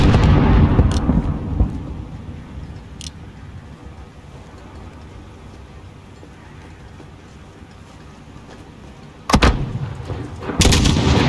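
Mortar fire in the video game Call of Duty Modern Warfare, a heavy rumbling blast that fades into a low roar, followed later by two more sharp, loud booms close together.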